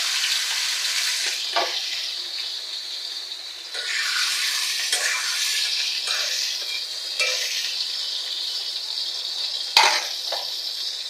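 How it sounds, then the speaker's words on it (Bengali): Salted potatoes frying in hot oil in a pan for french fries: a continuous bright sizzle and crackle, close and loud, with stirring scrapes and a clink of utensil against pan. "অর্ধেকটা দিব দুবার করে ভাজবো"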